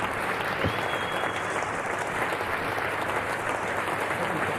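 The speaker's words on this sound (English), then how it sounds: "I'm sure the entire ground clapping at that announcement by Alan Curtis" A cricket ground crowd, Australian fielders among them, applauding John Arlott's final commentary: a broad, continuous rumble of distant clapping from a large crowd, even and sustained without a break.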